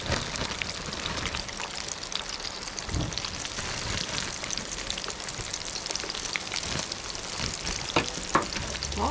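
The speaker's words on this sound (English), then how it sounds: "I'm gonna get some of these potato wedges fried up" Potato wedges deep-frying in hot oil at a fish catch-and-cook meal, a dense, steady bubbling sizzle like heavy rain that stays loud and close throughout with occasional sharper pops.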